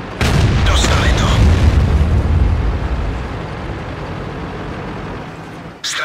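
Heavy explosions boom as an enemy tank is destroyed in a video game, with a loud rumbling blast up front that slowly decays into a lingering roar, followed by a sharp burst near the end.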